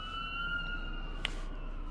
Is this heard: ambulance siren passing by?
yes